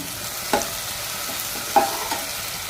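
Tomatoes fry in a tempering in a hot pan with a steady sizzle, with two or three louder stirring scrapes breaking through the frying hiss. No voices.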